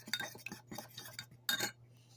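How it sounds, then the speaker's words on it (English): Fork whisking melted chocolate and milk in a mug, close and clear: quick bursts of metal clinking and scraping against the mug in uneven strokes, with a low steady hum underneath and no talking. "you then are going to whisk it together with a fork"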